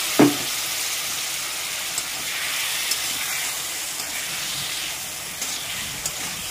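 Mixer-ground ginger-garlic spice paste sizzles in a pan after a little water goes in, making a steady low hiss opened by one sharp clack and dotted with a few light utensil taps.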